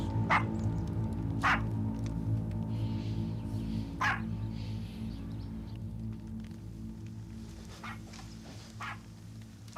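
Several high, yappy barks ring out at irregular intervals over a low, steady background hum, fairly faint and somewhat distant.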